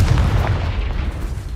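A fire-type blast spell detonates in a Hogwarts wizarding video game, heard as a loud, booming explosion with heavy low rumble that stays dense and sustained across the short moment, with no talking.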